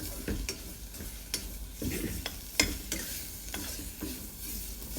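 Pork stir-fried with curry paste, lemongrass and kaffir lime leaves in a pan, a close, steady sizzle broken by repeated sharp scrapes and clacks of the spatula at an irregular rhythm.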